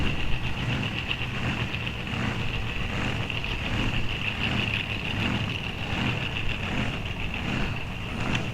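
A 1964 vintage front-engined drag car with a small block Chevrolet idles steadily at a drag strip, a continuous, even rumble with a persistent tonal whine over it and no talk.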